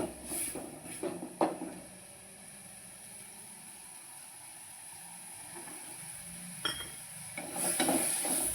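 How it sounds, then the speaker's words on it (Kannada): Onion, tomato and garlic fry with turmeric in a pan, a steady soft sizzle running throughout with a few sharper clinks of a spoon against the pan near the start and end. "ಸ್ವಲ್ಪ ಅರ್ಶಿನ ಪುಡಿ ಹಾಕ್ಕೊಂಡು ಫ್ರೈ ಮಾಡ್ಕೊರಿ"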